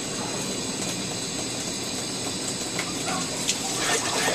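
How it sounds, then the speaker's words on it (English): Water rushes steadily through newly soldered household plumbing during a pipe replacement, a continuous loud hiss and gush that holds throughout with slight surges near the end. "Uh-oh, I'm hearing water."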